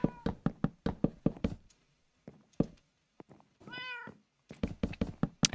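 A single meow from a video-game cat rises clearly in the middle, amid scattered knocks and thumps before and after it.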